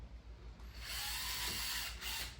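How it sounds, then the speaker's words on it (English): A power drill whirs up and runs with a steady high-pitched whine for about two seconds, close by, with a brief dip in speed, during shower subfloor and drain installation. "we're going to use a drill, just the same drill"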